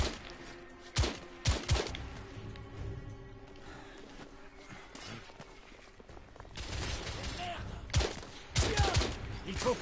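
Gunfire bursts from The Order: 1886 video game, with loud volleys near 1, 1.5, 8 and 9.5 seconds over a steady game background of ambient noise and faint speech.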